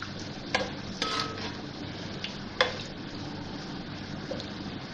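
Whole garam masala (cumin seeds, cloves, cinnamon and black peppercorns) sizzles steadily in hot oil with browned onions, with a soft, even crackle and a few light clicks from a spoon against the pan.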